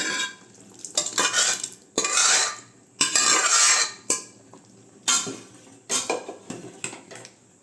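Moong dal payasam stirred in a metal pot with a spoon, scraping strokes in uneven bursts separated by short pauses, close and fairly loud with faint clinks.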